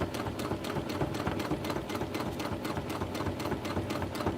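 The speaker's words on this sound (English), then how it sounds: "I wanted to backstitch that." Sewing machine stitching an OESD embroidery project, running continuously with a fast, even mechanical clatter close to the microphone, alone without talk.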